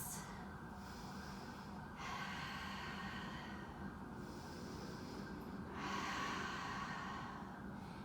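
Slow, steady breathing during a yoga pose, with long nasal inhales and exhales alternating in a calm rhythm, close and soft with no talk.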